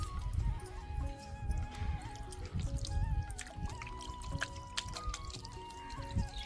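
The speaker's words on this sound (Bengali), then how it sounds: "আর একটু জল দিয়ে দেব।" Water pours and trickles steadily over chhana, milk curdled with vinegar, rinsing it in a kitchen; close, continuous splashing with no voices.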